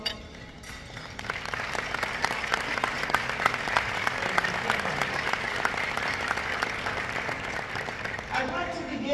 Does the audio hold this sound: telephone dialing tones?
no